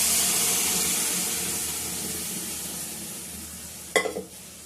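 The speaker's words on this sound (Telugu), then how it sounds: "ఇప్పుడు స్మాష్ చేసి పెట్టుకున్న పెసల్ని పోపులోకి వేసుకునేస్తాం" Smashed moong dal going into hot tempering with fried onions, a fading steady sizzle that ends in a brief sharp burst of frying and stirring near the end.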